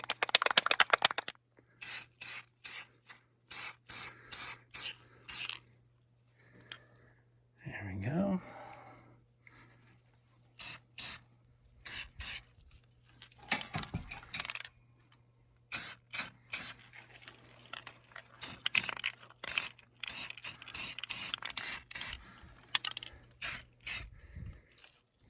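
Aerosol paint-and-primer all-in-one is sprayed onto metal in repeated short hissing bursts with pauses between them, close to the can, while a low steady hum runs underneath and a voice briefly murmurs.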